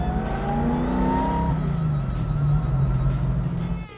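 A 1969 second-generation Chevrolet Camaro engine revs loudly up close, a sustained rising roar whose pitch climbs and then eases back down over a few seconds with no voices.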